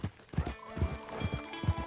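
A horse gallops in Red Dead Redemption 2, rapid rhythmic hoofbeats thudding in quick pairs, close and steady, with a faint snort or whinny mixed in and no talk.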